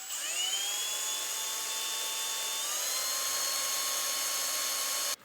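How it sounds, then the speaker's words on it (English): A drill bores a hole in a motorcycle handlebar on a CFMoto 650NK, giving a steady high-pitched whine that shifts pitch partway through before cutting off abruptly near the end. "So I've got to drill another hole."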